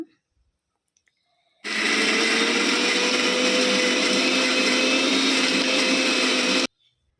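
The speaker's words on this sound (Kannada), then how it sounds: "ಮಿಕ್ಸಿಗೆ ಹಾಕ್ತಾರೆ ಇವಾಗ" A mixer grinder blending chutney whirs loudly and steadily for about five seconds, starting and stopping abruptly with near silence around it.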